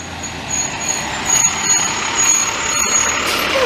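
A loud work truck rumbles and hisses past close by on a Montreal street, with a broad roar of engine and road noise and a high whine underneath.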